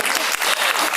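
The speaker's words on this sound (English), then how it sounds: "Oh, you're clapping." Applause from a small audience at a panel discussion on China reporting, about a second of brisk, close, steady hand clapping with no talking.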